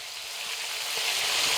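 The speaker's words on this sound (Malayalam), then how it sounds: "ചിക്കനും ഒന്ന് വറുത്തെടുക്കണം" Chicken pieces shallow-frying in hot oil in a pan, a loud, steady crackling sizzle that grows slightly stronger throughout.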